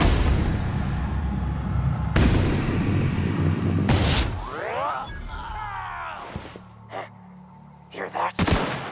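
Gunfire in the video game The Outer Worlds: loud, booming bursts of shots that fill the first four seconds and return near the end, with quieter game sounds and distant voices in between.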